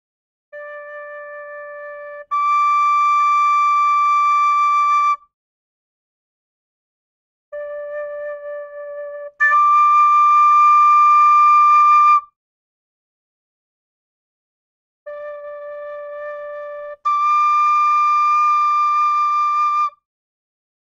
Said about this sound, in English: I'll now play you a low D and a high D on each three of these whistles